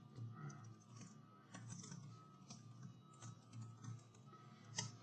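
Soft, quick clicks of typing on a computer keyboard as a Python code comment is entered, faint and irregular keystrokes with slight pauses between bursts.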